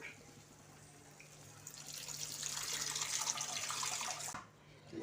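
Tamarind water poured into a pot, a soft splashing stream that builds for a couple of seconds and then stops abruptly, close and fairly quiet.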